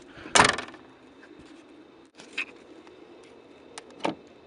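The rear trunk lid of a 2012 VW Passat closing, with one loud close thump near the start, then a couple of quieter latch clicks and knocks in a quiet setting.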